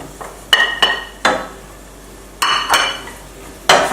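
Onions, carrots and celery stirred in a pan, with several distinct clanks and scrapes of a utensil against the pan over a faint background sizzle.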